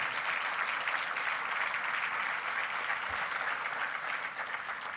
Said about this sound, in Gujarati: આપણે એમને જોરદાર તાળીઓથી વધાવવા છે.